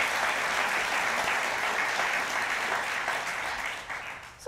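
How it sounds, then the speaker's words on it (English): Dense, sustained applause from a large theater audience at an onstage conversation event, loud and continuous throughout before thinning slightly at the end. "An odd thing to do to applaud a question, isn't it"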